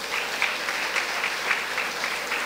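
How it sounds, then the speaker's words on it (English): Audience clapping for dancers at a church silver jubilee cultural evening, a dense, steady round of applause from a crowd, fairly loud and continuous throughout. "Let us clap for them."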